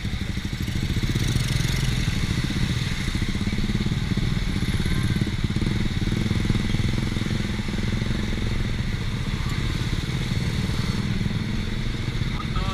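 A Honda Supra motorcycle ridden at night through Banda Aceh produces a steady close engine drone with rumble and light mechanical clatter, continuous and loud, with wind noise under it.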